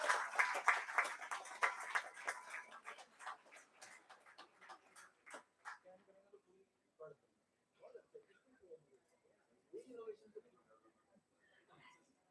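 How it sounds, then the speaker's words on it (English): Conference audience at a business management event gives a quiet, thinning round of applause that starts fairly dense and fades into scattered, faint claps, with low murmuring voices in the later part. "Let us acknowledge this moment with a warm round of applause."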